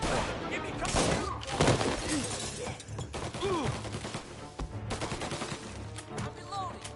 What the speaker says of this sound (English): Just some shots!